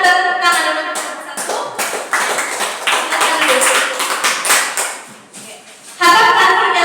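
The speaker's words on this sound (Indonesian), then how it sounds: "Mari kita tepuk tangan untuk kelompok" A classroom of students claps for a group after its presentation, loud close bursts of hand clapping in uneven waves, dipping briefly before a final strong burst.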